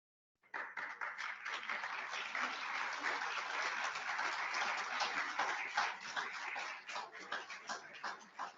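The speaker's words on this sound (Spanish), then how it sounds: "Les voy a pedir que recibamos con un fuerte aplauso a las autoridades que hoy nos acompañan." Strong, sustained applause from an audience welcoming officials at an academic conference and workshop, dense clapping that starts abruptly, holds steady for several seconds, then thins into scattered claps at the end.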